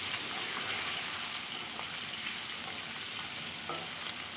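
Shingi fish fry in hot oil in a kadai, a dense, steady crackling sizzle with small spitting pops that stays close and even throughout.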